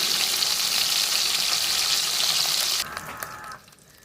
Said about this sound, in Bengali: আর একটা পিঠও আমরা ভালো করে ভেজে নেব।